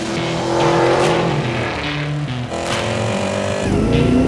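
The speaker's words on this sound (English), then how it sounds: "a supercharged V8 engine motor. Such a ridiculous sound." A 2023 Cadillac Escalade V's supercharged V8 engine roars and revs hard, pitch rising and falling in quick bursts, loud and close.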